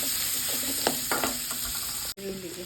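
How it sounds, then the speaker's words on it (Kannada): Finely chopped onions frying in a pan while potatoes are prepared, a steady close sizzle with a few spoon scrapes and one brief dropout near the end, no talking. "ಈಗ ಈರುಳ್ಳಿ ಹಾಕ್ಕೊಳ್ಳೋಣ. ಸಣ್ಣದಾಗಿ ಹೆಚ್ಚಿಟ್ಕೊಳ್ಳಿ. ಇದು ಚೆನ್ನಾಗಿ ಫ್ರೈ ಮಾಡ್ಕೊಳ್ಳೋಣ."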